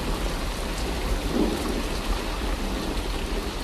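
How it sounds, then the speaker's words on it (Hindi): Heavy rain mixed with hail in a cartoon storm over farm fields, a dense, loud, continuous roaring downpour with low rumbling beneath, steady throughout with no voices. "कुछ ही देर में बारिश के साथ साथ ओले भी गिरने लगते हैं।"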